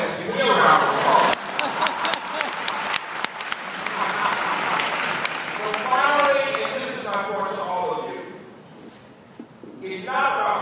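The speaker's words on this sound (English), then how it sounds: "Give me a round of applause" A large audience of new university students applauds at an orientation event, a dense wave of clapping with some laughter and chatter that gives way to a speaker talking into a microphone.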